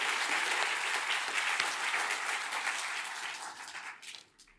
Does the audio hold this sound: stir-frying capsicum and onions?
no